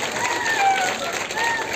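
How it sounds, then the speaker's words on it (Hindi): Audience applause at a ceremony renaming government schools after martyred policemen, a loud, steady clapping crowd that carries on under an announcer's voice. "एक जोरदार तालियां"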